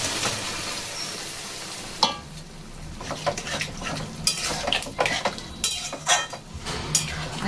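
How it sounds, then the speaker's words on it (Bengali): Fried potatoes and pointed gourd go into a simmering curry along with coconut water, giving a hiss of liquid hitting the pan, then scattered spoon scrapes and clinks of stirring in the pot, close and moderately loud, with no talking. "এখন দিয়ে দেবো ভেজে রাখা আলু পটল আর যে আমি নারকেল জল রেখেছিলাম"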